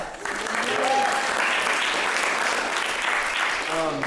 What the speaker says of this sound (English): one more round of applause for Richard.